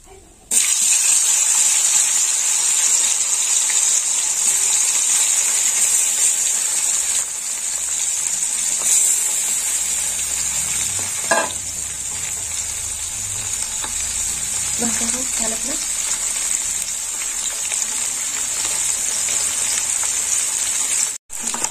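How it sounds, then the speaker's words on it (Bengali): A steady, loud sizzle of small puti (pool barb) fish frying in hot oil fills the scene up close, broken now and then by a light scrape or tap. "এবার বাকি মাছগুলো ভেজে নেব।"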